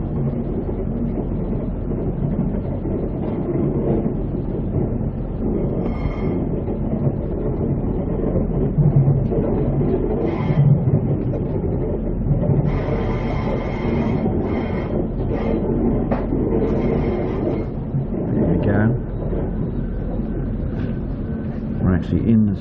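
The Tilt Train running from Brisbane to Rockhampton, heard from on board as a continuous rumble of wheels on track, with intermittent higher squeals and clatter from the rails and some voices in the carriage.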